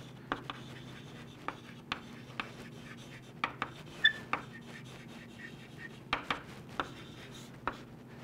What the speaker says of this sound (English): I'm writing over here.